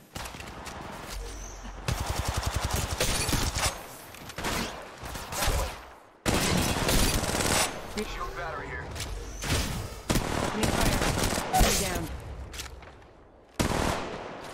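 Bursts of automatic gunfire from a battle royale shooter on mobile, Apex Legends Mobile, loud repeated volleys separated by brief pauses, mixed with game effects.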